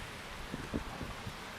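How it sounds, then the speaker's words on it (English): Rain falls steadily on a Snowdonia mountainside, a soft continuous hiss with a few faint, slightly stronger patters and no voices. "And then come back down and it's raining."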